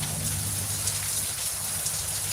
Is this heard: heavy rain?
yes